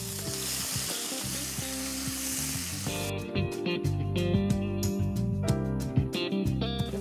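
Ground onion paste with cinnamon, cardamom and clove hitting hot oil in a pan, a loud dense sizzle that swells into busier crackling and spattering partway through, with faint stirring underneath.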